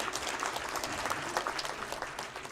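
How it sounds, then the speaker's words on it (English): Audience at a civil society conference conclave giving a round of applause, dense steady clapping at moderate volume with small swells, continuing for a few seconds without speech. "A big round of applause,"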